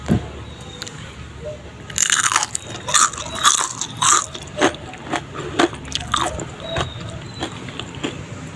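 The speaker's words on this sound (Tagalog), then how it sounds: "subukan nating tikman kung crunchy nga ba" Crispy fried patola (sponge gourd) leaves are bitten and chewed up close, with a series of sharp, loud crunches coming in an uneven rhythm after a quiet start.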